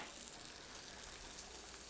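Diced butternut squash toasts slowly over low heat in a pan, giving a soft, steady, faint sizzle with no other sound.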